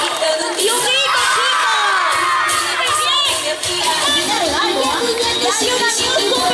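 A crowd of children shouts, whoops and cheers loudly at a Christmas show, a dense, sustained roar of young voices with an adult voice over it.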